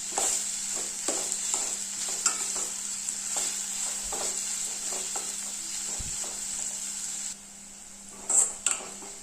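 Onions sautéing in a pan toward light brown for a tomato thokku, a steady bright sizzle punctuated by regular spoon taps and scrapes against the pan, close and alone without voices.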